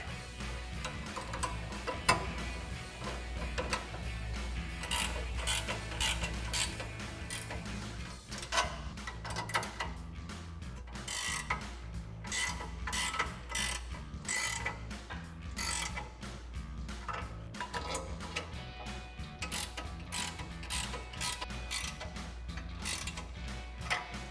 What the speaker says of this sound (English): Then we want to tighten down our nuts. We're going to be using a 7/8 size wrench.